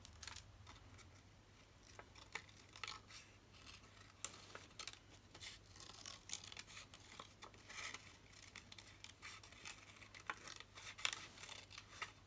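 Scissors snipping through paper for Christmas ephemera, a string of faint, close, irregular cuts over a quiet room background, with no talking.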